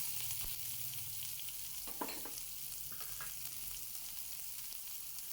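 Curry leaves and chopped onion sizzle in hot oil with mustard seeds, cumin and urad dal for a raw mango gojju, a bright steady hiss with a few crackling pops and stirring scrapes, close and without speech.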